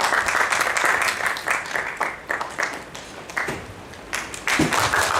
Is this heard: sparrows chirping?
no